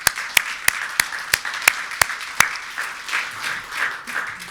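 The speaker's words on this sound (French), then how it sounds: "je vous propose de les applaudir pour commencer" A small audience applauds, with sharp distinct claps at first, then thicker, blended clapping that fades slightly toward the end.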